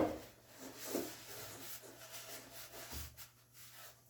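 Oil finish is wiped onto a wooden spice rack with soft, close rubbing strokes that come in a few uneven passes at low volume.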